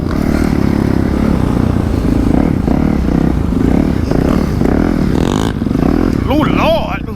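A motorcycle on road tires churning across sand, its engine revving and labouring close by while a rider shouts over it.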